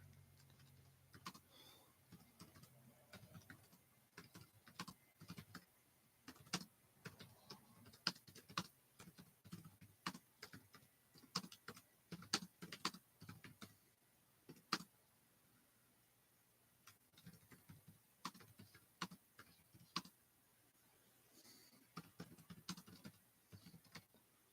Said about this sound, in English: in case anybody was wondering what the hell I was just typing there